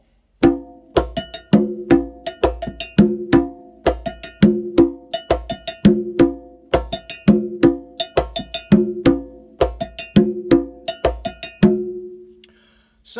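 Congas playing a sparse, minimal ostinato pattern with added embellishments: a steady run of crisp, resonant hand strikes at an even pulse, close and clear with no talking, ending in a ringing tone.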